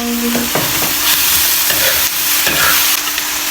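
An egg fries in a pan at breakfast, giving a loud, steady sizzle close by, with a few soft scrapes and taps of a utensil stirring throughout.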